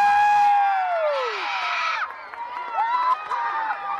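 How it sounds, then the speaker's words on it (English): Schoolchildren cheering and yelling outdoors at a school celebration, a crowd of high-pitched shrieks and whoops rising and falling, loud and close, with sustained screams and excited shouts layered together. "The kids are yelling. Everybody's cheering about Mr. Howard."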